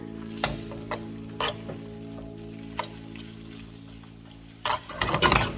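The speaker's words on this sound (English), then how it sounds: "I'm just going to really just give that a good saute" Smoked beef for Mongolian beef is sautéed and stirred in a pan: a steady low hum carries scattered scraping stir strokes, then a louder sizzling burst near the end.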